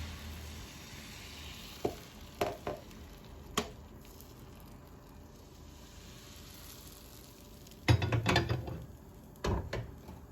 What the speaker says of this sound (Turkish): Önceden ısıttığım krep tavasına hamurdan dökerek hızlıca tavaya yayıyorum